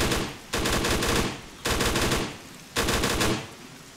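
Automatic gunfire in the military shooter Arma 3, three loud, sustained bursts of rapid shots, each about a second long, separated by short pauses.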